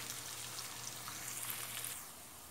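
Chopped onions sizzle in hot ghee, frying toward golden brown: a faint, steady crackle and hiss runs throughout and eases slightly near the end.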